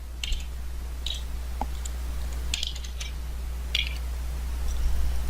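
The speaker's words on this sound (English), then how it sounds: "I hit the Enter key" Computer keyboard keys clicking in a few sharp, separate taps spread over several seconds, close and crisp over a low steady hum, with no talking.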